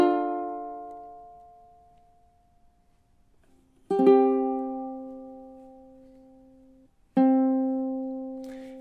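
Ukulele plays two measures of a film theme in three plucked chords or notes, each ringing out and slowly decaying, with a long gap between them, clear and alone.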